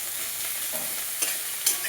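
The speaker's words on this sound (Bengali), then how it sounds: "এখন একটু ভেজে নিই।" Cauliflower sizzles and fries in a hot pan, making a steady, dense hiss, with a few louder scrapes and clinks as it is stirred and no voices.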